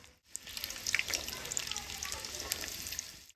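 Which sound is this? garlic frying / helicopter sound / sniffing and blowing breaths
garlic frying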